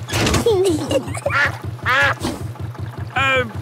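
A cartoon duck, Mrs. Duck from Peppa Pig, quacks several times in loud, close calls over a steady chugging boat engine, with no talking.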